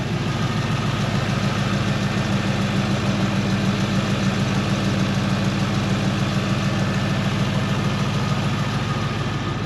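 A car engine idling at a steady, even rumble, loud and close, with a faint vibrating hum and no interruptions throughout.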